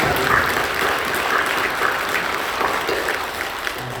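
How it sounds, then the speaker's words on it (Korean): Applause from a church congregation during a Sunday worship service, a steady wash of clapping that holds at an even level throughout without voices over it. "우리 사랑하며 격려하며 박수해 주시고 감사합니다"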